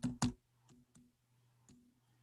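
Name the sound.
typing on a computer keyboard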